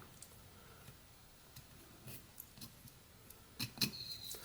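A pocket knife carves walnut wood while whittling a small witch figure. Faint, scattered scraping and clicking cuts come quietly and close, followed by a louder burst of small snaps near the end.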